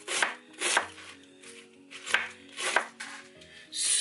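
A knife chops through cabbage on a cutting board in a kitchen, with a series of crisp, separate strokes in an irregular rhythm, each one a sharp crunch followed by short quiet gaps.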